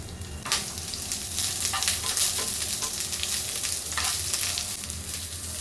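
Chopped onion hits hot oil in a heated pan and fries with a steady, dense sizzle, with a few sharper crackles and spatters over about six seconds of continuous cooking noise, no voices.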